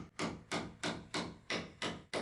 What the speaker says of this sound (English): I had to hammer in many kilograms of nails